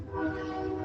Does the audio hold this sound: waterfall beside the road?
no